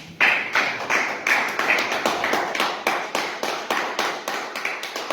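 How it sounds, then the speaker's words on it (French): Church congregation clapping loudly and steadily together after a scripture reading at a French-language Mass, a fast even rhythm of hand claps sustained throughout without voices. "Acclamons très fort pour la parole."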